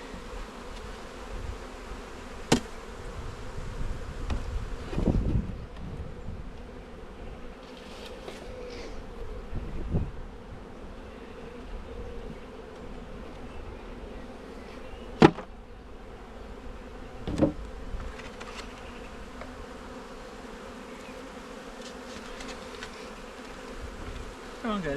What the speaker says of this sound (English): Forgetting that there'll also be bees in the lid.